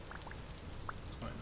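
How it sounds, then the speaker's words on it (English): Rain falls steadily in the video game Vintage Story, a soft constant hiss with a few distinct droplet taps, fairly quiet and with no speech. "Kind of enjoying the rain, it's a bit calming."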